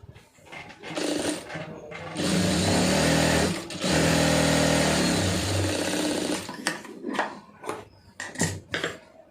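A sewing machine stitches fabric in short bursts and then a long steady run, its fast mechanical whirring loud and close, with brief clicks and handling noises between runs.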